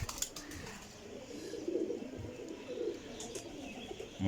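Tumbler pigeons, including a Teddy hen, coo softly nearby in a few low, rolling phrases over quiet background hiss.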